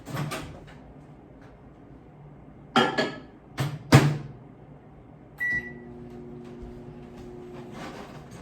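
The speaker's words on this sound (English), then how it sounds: "I'm going to step off camera and get these in the microwave." A microwave oven heating butter and chocolate together in a kitchen: door clunks and sharp button presses, then a beep and a steady low hum as it starts running, with no talk.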